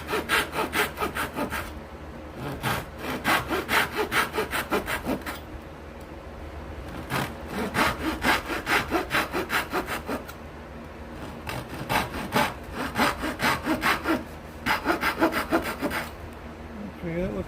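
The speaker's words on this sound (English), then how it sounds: "So I'm going to cut close to the line all the way down." Hand saw cutting a neck slot into the wood of a cigar box guitar, sounding as steady rhythmic back-and-forth rasping strokes in repeated bursts with short pauses between them, close and fairly loud.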